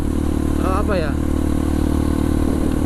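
A Honda CRF 150L supermoto motorcycle engine runs with a steady, loud, even drone throughout, while a voice briefly speaks over it near the start.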